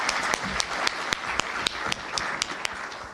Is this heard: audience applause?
yes